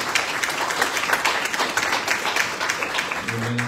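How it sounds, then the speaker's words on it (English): Congregation clapping hands in praise at a church home-going funeral service, a dense steady wash of applause from many hands throughout, with a low sustained organ-like tone entering at the end. "Let's give God a hand clap of praise."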